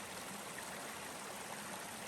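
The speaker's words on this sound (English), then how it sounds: "Here's a second crossing of Lynx Creek." Mountain creek water flowing steadily at a trail crossing of Lynx Creek at about 8850 feet, a close, continuous broadband rush with no voices.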